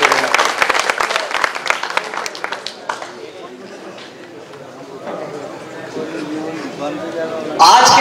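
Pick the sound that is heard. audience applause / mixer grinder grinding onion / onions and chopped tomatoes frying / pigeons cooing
audience applause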